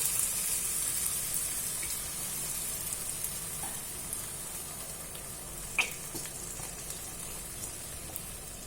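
Chicken curry with freshly added coconut milk simmers and sizzles softly in a pan, giving a faint, steady hiss with one brief clink partway through and no voices.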